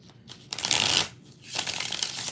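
Close, crisp riffle of tarot cards being shuffled, two quick bursts of flapping and rustling with a brief pause between them.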